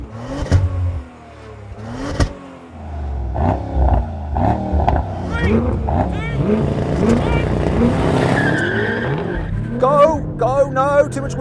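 Mercedes-AMG E63 S, BMW M5 and Audi RS 5 launching in a drag race, engines revving hard with tyres spinning and squealing, loud and close, under excited talking.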